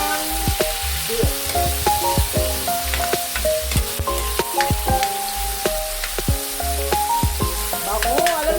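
Chopped tomatoes hit a hot pan and sizzle steadily, with crackling pops and occasional stirring scrapes running continuously, close and fairly loud.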